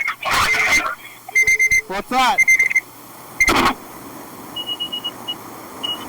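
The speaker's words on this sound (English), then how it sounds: "What was that beeping sound?" A car sounds a series of short electronic beeps in quick clusters, loud and close, followed by fainter beeping, mixed with voices talking in the car.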